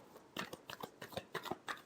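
Tarot cards shuffled by hand, a quick run of crisp riffling flicks and taps close up, about a dozen sharp bursts in under two seconds with no talking.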